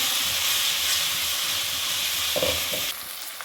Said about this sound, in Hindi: थोड़ा सा मैंने भून लिया है अदरक लहसुन की पेस्ट को